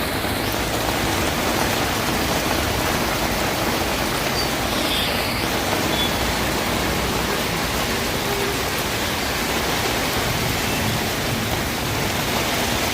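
Heavy unseasonal rain pouring down in Karjat, a dense, even hiss of rainfall that stays loud and unbroken from start to finish, with no voices.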